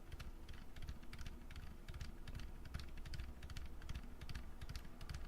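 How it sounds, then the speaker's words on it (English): Steady, fast typing on a mechanical keyboard fitted with Outemu Honey Peach V2 silent linear switches, giving muted, dense keystrokes with soft bottoming thuds, close up and continuous throughout without any talk. "What you're hearing is mostly me hitting the key more than actually the switch itself."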